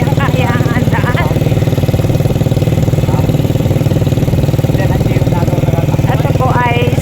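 A habal-habal motorcycle engine running steadily while riding on a rough road in Marinduque, a loud, close, rhythmic chugging drone that holds throughout, with people talking over it.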